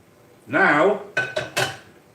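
Metal cookware clattering in a home kitchen as a wok and pans are handled, one sustained scrape followed by three sharp knocks, close and fairly loud with no talk over them.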